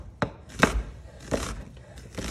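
A knife chops through onion on a cutting board in a few distinct, sharp strokes, spaced unevenly and close up, with no talking.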